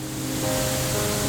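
Karumparai waterfall in Kanyakumari District pours in a steady, broadband rush of falling water, close and continuous, with no voices over it.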